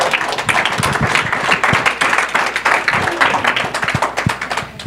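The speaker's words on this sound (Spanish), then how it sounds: "Un aplauso para Marcos." A room full of people at a church gathering claps for a volunteer named Marcos, a close, fairly loud patter of individual claps that swells briefly and then starts to fade.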